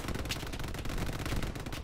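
A German MG machine gun firing on a D-Day beach in a World War II video game, a dense rapid rattle of shots that continues without pause at moderate distance.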